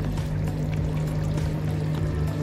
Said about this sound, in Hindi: इसे बाउल में निकाल लेते हैं।